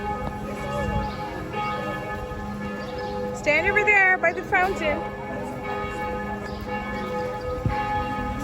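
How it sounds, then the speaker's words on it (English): Church bells ringing after a service in Zurich, Switzerland, a steady tolling carrying through an outdoor city setting, with people talking nearby and a voice rising briefly over the bells. "Church bells are ringing."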